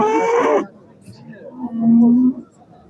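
A cow at a livestock market gives a low, drawn-out moo after a brief burst of a voice, with quiet outdoor background between.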